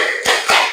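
A group of people clap together in a counted pattern, two loud broadband claps close and strong, with no talking.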